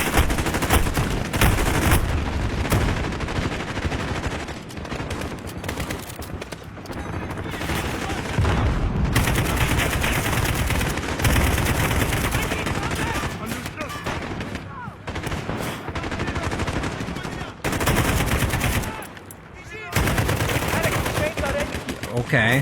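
Dense gunfire from Call of Duty: Modern Warfare (2019) fills the scene, rapid automatic bursts and sharp single shots rattling almost without pause, loud and close, with a brief spoken word among them.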